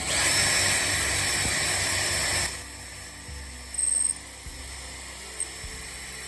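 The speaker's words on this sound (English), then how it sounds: "I'm just drilling one hole through first" A power drill whines steadily for a couple of seconds while drilling a bolt hole for dinghy wheels, then stops, leaving quieter clunks and low rumbling.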